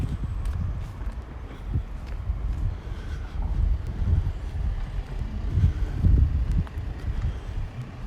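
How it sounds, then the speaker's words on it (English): A west wind with a northerly edge buffets outdoors on a February walk in North Oxford, a continuous low rumble and gusting roar across the microphone, moderately loud throughout. "It's a west wind with a northerly sort of tinge"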